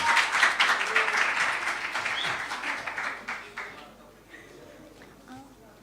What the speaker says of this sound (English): Let's give her a round of applause as she takes the podium.